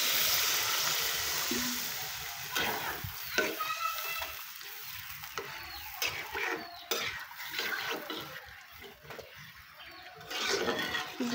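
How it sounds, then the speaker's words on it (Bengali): Water goes into a pan of frying rohu fish and potato curry base, and the pan clatters with utensil knocks and stirring over a fading sizzle, heard close with no speech. "এখন দিয়ে দেবো এর মধ্যে ঝোলের পানি"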